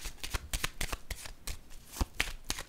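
Tarot cards handled and shuffled at close range, a rapid series of crisp flicks and riffles in uneven bursts, with no voice.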